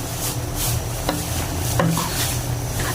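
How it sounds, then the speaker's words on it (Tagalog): Squid sauce bubbling at a boil in a pot while a spoon stirs it, with soft scraping and a couple of light clinks against the pot over a steady simmering hiss. "At ating haluin, mainit naman, kumukulo oh."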